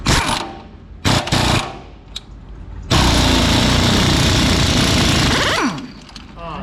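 A bulldozer's diesel engine, just repaired at a fitting on a coal pile, bursts and then roars loudly and steadily at high revs for several seconds before easing down, with brief sputters first.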